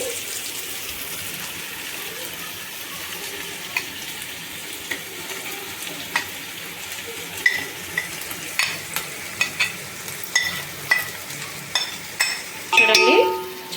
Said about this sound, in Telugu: చక్కగా పన్నీర్ అయితే ఇలా వేసుకొని కలుపుకోవాలి